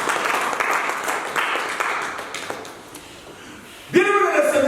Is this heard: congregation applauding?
yes